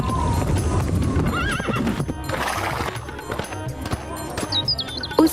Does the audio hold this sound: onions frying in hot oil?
no